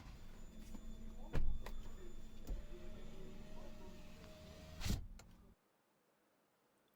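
Motor whir of the driver-side power window on a 2021 Hyundai i20 Sportz running auto down, a steady hum of about five seconds broken by a few clicks and a thunk, then sudden quiet.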